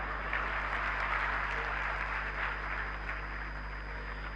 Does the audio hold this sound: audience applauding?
yes